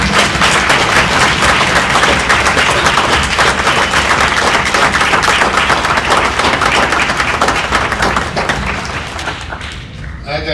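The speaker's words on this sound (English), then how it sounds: "one more round of applause" A school board meeting audience gives a loud, dense round of applause that runs steadily for about ten seconds before thinning out at the end.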